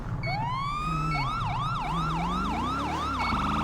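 Emergency vehicle siren in the FiveM video game, a loud wailing tone that sweeps steadily upward, then switches to a rapid repeating yelp cycling over and over, heard alone with no talk.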